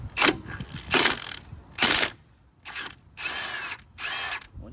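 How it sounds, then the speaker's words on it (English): An impact wrench hammering at the 14 mm crank bolt on an X-Pro Templar 250 flywheel, six short, loud, close bursts of rattling buzz separated by brief pauses. "your crank bolt is a 14 millimeter. So go over here, you need an impact that's pretty tough"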